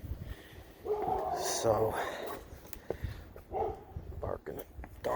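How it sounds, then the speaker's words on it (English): Dogs bark across the street, a few muffled, distant woofs mixed with soft background noise, while someone speaks briefly nearby. "Dogs always barking across the street."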